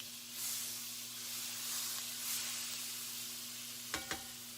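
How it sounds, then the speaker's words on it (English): Grease sizzling in a hot frying pan before bacon goes in, a quiet steady hiss and crackle throughout, with two sharp clinks of a utensil near the end. "Sizzling."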